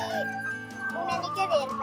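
Black hens cluck in a short series of soft calls set among children's-programme sounds, with a brief steady tone running beneath them.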